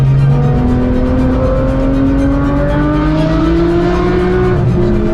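A Porsche GT3 climbs a mountain pass with its engine loud and close, pulling through the gears in rising, sustained notes and shifting under load, with no voices.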